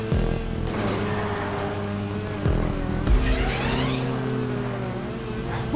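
A car races along in the video game GTA, its engine droning steadily with shifting revs and a couple of sharper accelerations, the tone rising toward the end, and a voice faintly present underneath.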